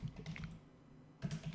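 Short bursts of typing on a computer keyboard, quiet clicking clusters at the start and end with a near-silent pause between, no speech.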